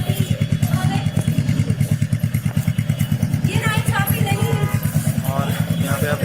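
Royal Enfield Supernova or Honda CB350 Highness motorcycle exhaust, a steady, loud, close idle thump with even rapid pulses throughout, while someone talks over it.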